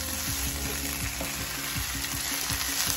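Shrimp curry fried rice with egg sizzles hard in a hot pan while being stirred, so a constant frying hiss runs under repeated rhythmic scraping strokes, close and fairly loud.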